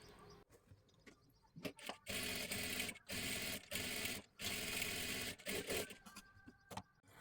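Sewing machine stitching a blouse lining, running in several bursts of steady whirring separated by short pauses, close and clear.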